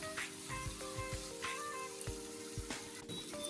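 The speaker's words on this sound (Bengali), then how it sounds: "আদা রসুনের পেস্ট দিয়ে হলুদ লবণ দিয়ে একটু ভালো করে কষিয়ে নিই" Chicken sautéing in a pan with ginger garlic paste, turmeric and salt, a steady sizzle and fry with intermittent scraping and clinks of a utensil against the pan, close and continuous, with no voice.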